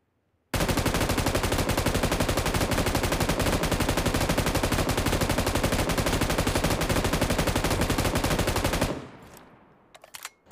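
An M249 machine gun in PUBG Mobile fires one long, unbroken, rapid burst for about eight seconds, loud and close, then cuts off into a brief fading tail and a few faint clicks.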